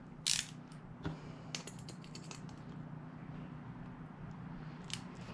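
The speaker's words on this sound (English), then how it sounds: "So I'm going to do that a little tighter, so I'm going to use my... I got another wrench." An old 1980s Snap-on ratchet wrench tightening a fog light bolt on a 2019 Subaru Crosstrek, quick bursts of close ratcheting clicks, a couple of louder clanks, then quiet.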